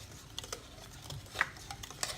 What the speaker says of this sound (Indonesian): Aduk terus.